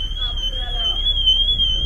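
An alarm goes off near a parked car, a continuous piercing high tone that holds steady and loud under people talking.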